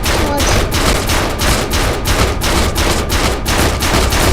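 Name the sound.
gunfire from people shooting in People Playground video game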